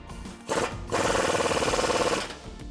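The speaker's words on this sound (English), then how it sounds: "now we're going to retighten the bolt that's attached to the lower end of our strut using a 19 millimeter socket" A socket wrench with a 19 mm socket ratchets in quick, rhythmic bursts, tightening the lower strut bolt on a 2007-2021 Toyota Tundra, close up with short pauses between runs.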